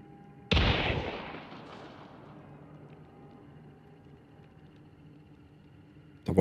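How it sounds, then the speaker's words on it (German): A single heavy gunshot in the game Hunt: Showdown rings out loud, then booms and decays over about two seconds into quiet background, with another sharp onset at the very end. "Wollte einer unbedingt schießen."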